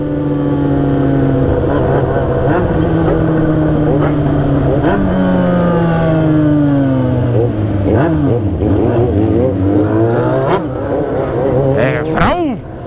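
A Yamaha Fazer 600 motorcycle engine revs hard and continuously, pitch sweeping up and down through repeated throttle blips, loud and close throughout.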